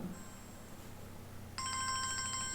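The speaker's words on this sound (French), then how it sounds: "Ça, c'est mon téléphone, c'est pas grave." Partway through, a mobile phone starts ringing with a bright, repeating electronic ringtone, close and clear over a quiet room background, with no talking.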